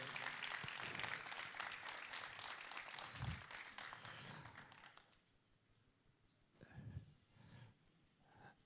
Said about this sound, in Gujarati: મિત્રો એકવાર જોરદાર તાળી જય વિઠલાણીના સન્માનમાં થઈ જાય